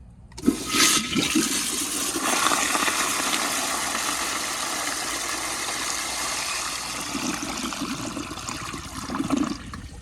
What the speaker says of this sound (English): So let's give her a first flush.